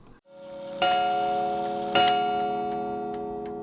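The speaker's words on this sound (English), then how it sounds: "listen to what the chime sounds like when it's pure mechanical" A Sessions mantel clock's purely mechanical chime strikes twice, each a bright ringing tone with long sustained decay, over a steady soft tick-tock with no voices.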